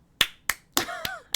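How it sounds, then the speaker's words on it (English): A few sharp single claps spaced unevenly, loud and close, with a brief exclamation-like voice sound between them. "I don't know why I'm clapping"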